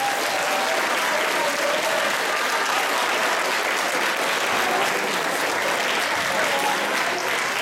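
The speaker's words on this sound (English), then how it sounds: "I would like you to join me in giving your teachers, all of your teachers, a well-deserved round of applause." A school assembly audience claps for their teachers in a long, dense, even round of applause that stays loud and sustained from start to finish.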